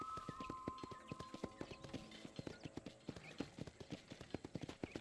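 Horses clip-clop near a corral in the Red Dead Redemption video game, steady hoofbeats on hard ground in a quick repeating rhythm, with a brief whinny early on.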